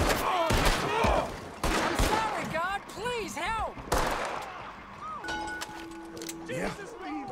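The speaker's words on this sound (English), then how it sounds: "That's a gun, all right." Gunfire in Red Dead Redemption 2, several sharp shots scattered across the clip amid loud game action, with voices and other effects layered around the bursts.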